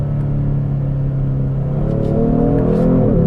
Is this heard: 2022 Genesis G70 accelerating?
yes